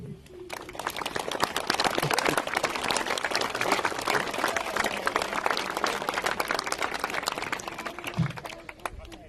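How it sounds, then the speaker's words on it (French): Audience applauding the teachers at the inauguration of a new elementary school in Baulne in 2018, a dense, sustained burst of clapping from a crowd that holds steady for several seconds before tapering off. "Nous pouvons les applaudir."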